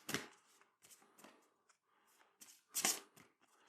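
A deck of cards for the Eldritch Horror board game is riffle-shuffled in several quick bursts, crisp fluttering rattles with brief pauses between, close and fairly quiet.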